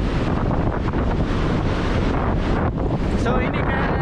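Strong monsoon wind batters the microphone on an island beach, with a constant loud roar and buffeting gusts over the churning wash of waves.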